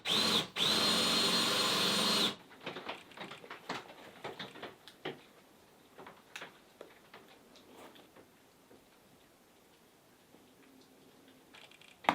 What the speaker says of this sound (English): so you're gonna have to drill the hole